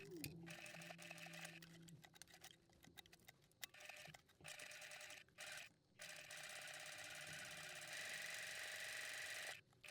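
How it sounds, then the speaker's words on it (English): Sewing machine stitching around the outside seam of a unicorn backpack, a close, rapid mechanical whirring in runs of a few seconds broken by short pauses. "Then we're going to stitch around the outside and we are leaving open that inside curved edge."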